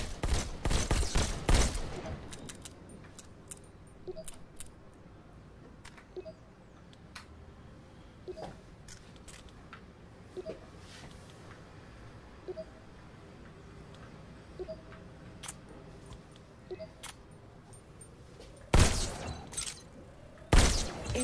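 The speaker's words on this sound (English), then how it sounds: "Now you're armed. Just squeeze the trigger to shoot." Pistol gunfire in the VR robot-shooting game Robo Recall: a rapid burst of loud shots opens the clip, then single shots crack at intervals over a quieter background, and another loud burst comes near the end.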